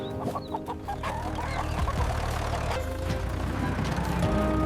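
Chickens cluck near a farm barn, layered with other farmyard noise and a vehicle hum, moderately loud and continuous, with a person speaking briefly over them.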